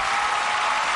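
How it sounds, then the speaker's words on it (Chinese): Studio audience at a Chinese television impersonation show breaks into steady, dense applause, a continuous wash of clapping filling the room without pause. "好，在掌声当中，"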